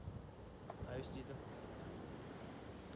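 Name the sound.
sea waves and wind at the shore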